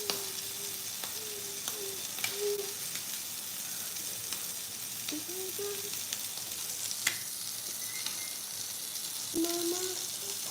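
Shrimp for tacos frying in a pan, a steady close sizzle with brief stir scrapes and clinks throughout, no voices.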